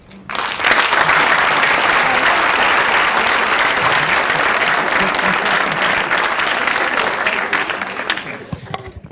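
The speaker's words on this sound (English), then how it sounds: "Let's do another round of applause for all of the products and service presentations." A crowd applauds at a tech conference pitch competition, loud sustained clapping that swells quickly, holds for several seconds, then thins into scattered claps near the end.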